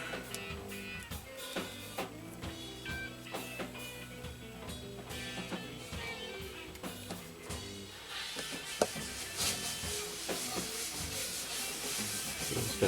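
Polishing compound being rubbed by hand onto an old regulator wall clock, a steady soft scrubbing and rubbing with irregular strokes, close and fairly quiet, with no talking.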